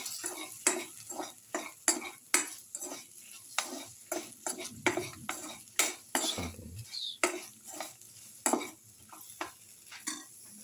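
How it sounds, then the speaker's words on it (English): Garlic okra tomato rice casserole ingredients being mixed in a bowl, with a spoon repeatedly scraping and clinking against the dish in a steady run of sharp, close taps and stirs, and no talking. "Mix together."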